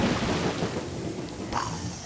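Thunder rumbles in the Jamestown shooter game, a broad, heavy roar under a continuous noisy wash, with a sharper crack about three quarters of the way through.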